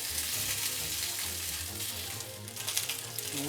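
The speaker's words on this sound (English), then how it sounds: "We will now be flipping the bones over. Again, they should come clean off the pan." Beef bones sear in a hot frying pan for a Taiwanese beef noodle soup broth, a steady loud sizzle and crackle running throughout, with a brief scrape as they shift near the end.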